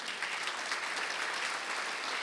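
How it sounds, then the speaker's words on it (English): Steady applause from a large audience greeting Ersin Tatar, President of the Turkish Republic of Northern Cyprus, fills the whole stretch, a dense even patter of many hands clapping. "please round of applause"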